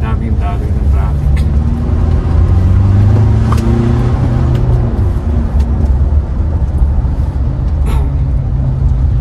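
Road traffic rumbles around a manual Toyota Montero Sport driving through Baguio City at afternoon rush hour, a steady low engine and tire drone with passing vehicles, a brief air-brake hiss, and people chatting inside the cab.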